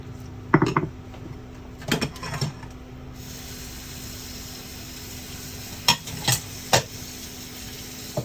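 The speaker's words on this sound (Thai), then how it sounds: "ผัดเบาๆนะน้ำมันร้อนแล้วนะครับ" Vegetables and shallots stir-fried in hot oil in a pan: a steady sizzle fills the background while a spatula scrapes and clacks against the pan in a few separate bursts, with no talking.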